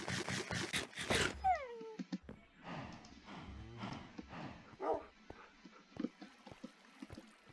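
Dogs in a video game, apparently Minecraft, bark and yip in short bursts, with a whimper and scattered game sounds, moderately close and fairly quiet.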